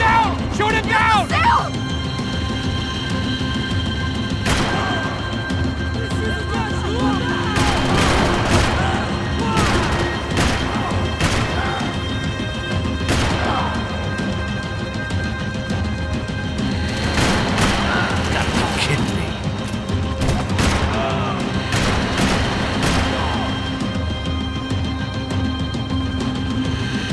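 Gunfire aimed at a helicopter in Max Payne 3 crackles in scattered bursts and booms, with crashes and thuds throughout, while voices shout over the loud continuous action.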